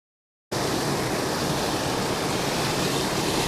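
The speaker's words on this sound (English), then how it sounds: "I can hear some water pouring in." Water pours steadily from a tiny creek into a small urban pond, a constant broadband rush that starts abruptly after a brief silence and stays loud and close with no talking.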